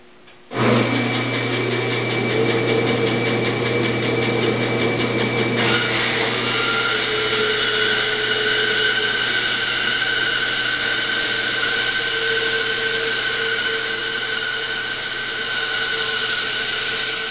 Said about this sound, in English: All my attention needs to be directed towards the actual bandsawing operation